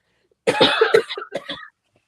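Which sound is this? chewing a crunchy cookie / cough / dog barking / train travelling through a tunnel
cough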